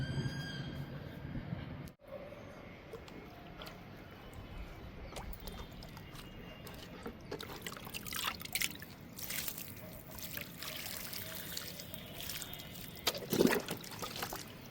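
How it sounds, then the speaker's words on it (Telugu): Water is poured onto compost in a garden, making a faint trickle and dribble with soft splashes over quiet outdoor ambience. "ఇంక ఈ కంపోస్ట్కి వాటర్ ఇచ్చేద్దాము"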